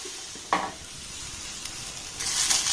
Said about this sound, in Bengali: সবজিগুলোকে দেখুন খুব সুন্দর করে নাড়াচাড়া করে আমি ভেজে নিয়েছি